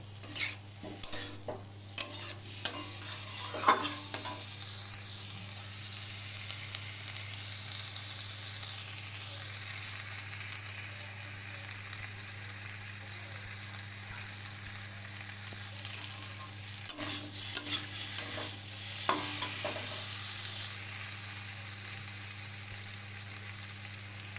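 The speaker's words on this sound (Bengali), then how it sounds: "দুই তিন মিনিট ধরে ভালোভাবে কষিয়ে নিলাম মশলা" Spice paste sautéing over medium heat for a Bengali koi fish curry with gathi kochu and bori, a close, steady frying sizzle with stirring scrapes, busier at the start and again near the end, no voices.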